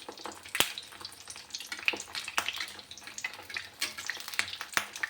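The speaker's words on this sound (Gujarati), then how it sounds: "તો હું તળી લઉં" Farali dahi vada fry in hot oil with a soft, bubbling sizzle broken by several sharp crackles and pops, close by and without talking.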